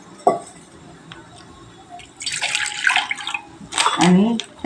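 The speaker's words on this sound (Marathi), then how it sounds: "एक वाटीभर पाणी घेते मी" Water is poured from a small bowl into another bowl while millet dumplings are being made: a faint drip near the start, then two splashing pours up close, the second ending in a short gurgle.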